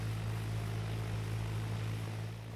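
A propeller airplane engine drones steadily and evenly throughout, a constant low hum with no talk over it.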